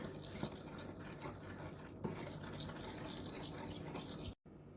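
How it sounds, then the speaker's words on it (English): A spoon stirs granulated sugar and ground cinnamon together in a small bowl, giving soft, continuous gritty scraping and rubbing at close range with light clinks, alone without talk. "in a smaller bowl, I have 1/4 cup of granulated sugar and 2 teaspoons of ground cinnamon. And I am going to mix this together"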